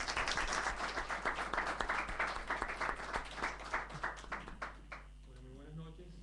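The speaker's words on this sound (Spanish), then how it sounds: "Un fuerte aplauso para él también," An audience applauds at an evening talk broadcast on a Caracas culture-ministry radio station, with dense clapping through most of the stretch before it thins out and fades near the end.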